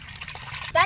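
A short trickle of tamarind water pouring close by, ending in a brief brighter splash.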